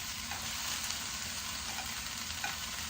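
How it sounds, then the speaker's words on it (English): Breakfast sausages sizzle steadily in a frying pan, a continuous close crackle with faint pops and no talk over it. "you just want to rotate your sausage to try and get them cooked on all sides."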